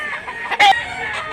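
A rooster crows once, loud and close, a short bright call rising out of a quiet farmyard background.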